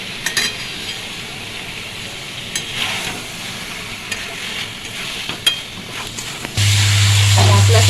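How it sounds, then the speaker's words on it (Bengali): Potatoes stir-fried with spices in a pan make scraping and stirring noises, then a steady loud sizzle with a low hum at the end. "মশলার সাথে আলুটা কষা হয়ে গেছে"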